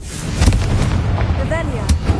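A fiery Confringo spell blast in Hogwarts Legacy bursts with a loud, booming low rumble close up, trailed by a brief whooshing magical shimmer.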